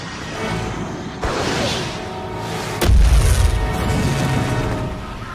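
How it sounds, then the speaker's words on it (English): A warning shot fired at a plane lands as a sudden loud boom partway through, ending a steady roar and leaving a rumbling, crackling tail. "That was a warning shot."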